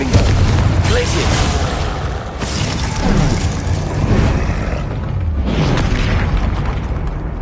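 Confringo spell blasts in Hogwarts Legacy burst out as loud, booming explosions over a dense rumbling game mix, with a few heavy impacts rolling one after another and a voice speaking under them.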